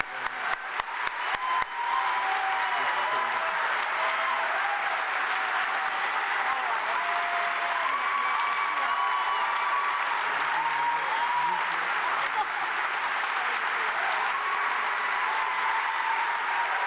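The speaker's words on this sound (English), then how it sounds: "let's shake the rafters with our applause" Sustained applause from a large audience welcoming George Takei to the stage at the Jefferson Center in Roanoke, Virginia, a dense even roar of clapping that holds steady for many seconds.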